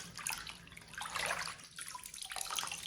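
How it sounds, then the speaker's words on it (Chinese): Pieces of cut fish are rinsed in a basin of clean water: continuous sloshing and splashing with brief trickles, fairly close and alone, no voices. "鱼切好以后，再次加入清水， 然后给它清洗一遍。"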